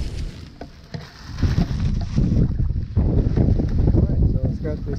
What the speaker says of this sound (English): it's really windy now because it's windy out here.